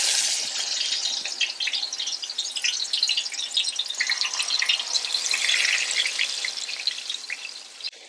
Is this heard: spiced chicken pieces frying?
yes